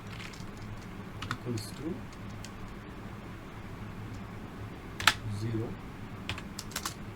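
Code being typed on a computer keyboard while someone talks over it, with scattered key clicks and a couple of sharper taps near the end.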